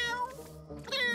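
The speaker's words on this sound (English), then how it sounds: "What's with the yowling?" A cartoon cat yowls in one drawn-out, wavering meow of a bit over a second, close and clear with no talk over it.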